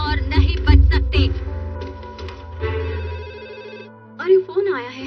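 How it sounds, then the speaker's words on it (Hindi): A telephone rings in a Hindi-dubbed Doraemon cartoon, with loud repeated bell trills in bursts, and cartoon voices speaking around them. "अरे फोन आया है।"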